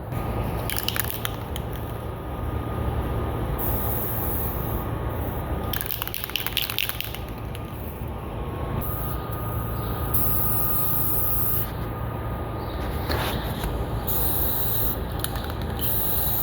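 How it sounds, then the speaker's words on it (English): Spray paint can hissing onto Farmall 200 tractor parts hanging for painting, in long steady bursts separated by short pauses, close and loud with no talking. "actually it's spraying a lot better now than it did before"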